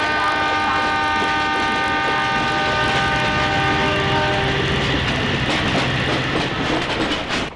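A passing train sounds its horn with sustained loud tonal blasts over the rumble and clatter of rail cars, lasting through most of the passage and fading near the end.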